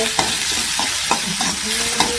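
Spices tempering in hot oil crackle and sizzle, with steady frying hiss and a few sharp pops and stirring sounds, close up.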